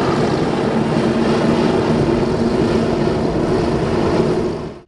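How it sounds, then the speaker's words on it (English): Two MAN diesel engines totalling 2158 horsepower on a passenger hovercraft spin up and build the air cushion, a loud, steady broadband roar with propeller-like drone that holds throughout and cuts off at the end. "the 2 MAN diesel engines, providing a total of 2158 horsepower, are ignited"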